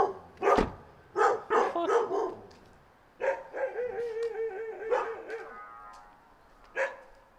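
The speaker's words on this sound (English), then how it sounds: "Those fucking asshole dogs are barking at me." Several dogs bark near a driveway in the Sierra Nevada mountains, loud close bursts of barks and yips in uneven clusters with short pauses between them.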